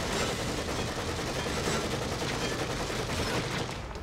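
Sustained barrage of gunfire in the survival horror video game The Evil Within, a dense continuous roar of rapid shots at steady loudness with no talking.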